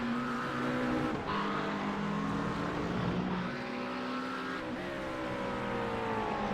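A Mercedes GT3 race car in a racing game at Imola, its engine droning loudly and steadily, with two audible gear changes as the pitch drops and climbs again.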